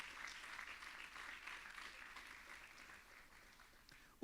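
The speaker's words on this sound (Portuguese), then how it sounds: "Aplauda o Senhor por isso, querido" A church congregation applauds during a worship service, a soft, distant wash of clapping that holds steady and slowly fades.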